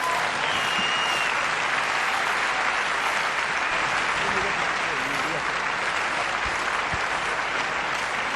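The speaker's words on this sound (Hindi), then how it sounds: "एक बार खड़े होकर के मेरी बेटी के लिए ताली बजाइए" Loud, sustained standing applause from an audience at a business meeting, honoring the speaker's daughter; dense continuous clapping fills the whole stretch with faint voices beneath.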